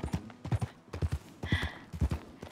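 In Red Dead Redemption 2, a horse gallops with close, loud, rhythmic hoofbeats in quick clusters, and a brief whinny or tack jingle sounds partway through; no voices are heard.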